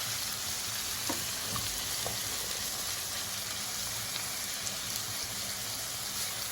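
Onion frying in a pan, a steady hissing sizzle at close range with faint scattered crackles, no talk.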